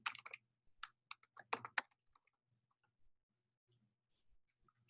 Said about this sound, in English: we're going to type introduction